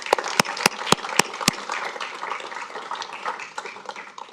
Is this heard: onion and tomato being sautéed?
no